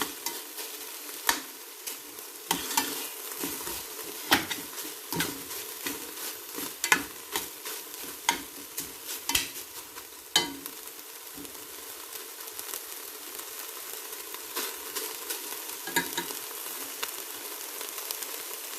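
Meat stir-frying in its own rendered fat, with no added oil, for a healthy spaghetti stir fry: steady close sizzle broken by repeated scraping strokes and clatters of a utensil against the pan.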